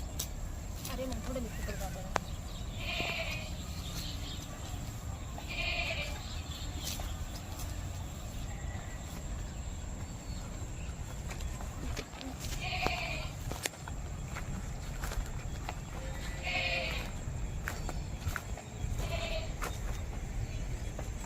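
Goats bleat several times at a distance, short wavering calls spread across a steady outdoor hum with occasional footsteps and faint voices.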